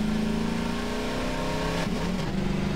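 A vehicle engine in Half-Life 2 revs loudly and continuously close up, its pitch dipping and climbing as it drives hard with the handbrake yanked, with no talking heard.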